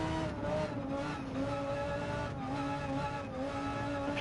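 Race car lapping the Bathurst Mount Panorama circuit in Gran Turismo 7 during a Manufacturers Cup round: a steady, sustained engine drone with rising and falling pitch as the car is pushed, with no talking.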